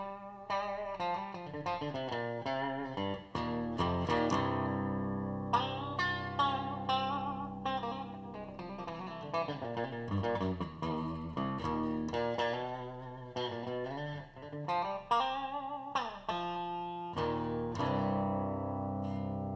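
Clean electric guitar in single-coil pickup mode on a custom Super-Strat, playing a bright, twangy melodic run with chords, heard alone and close with no talking.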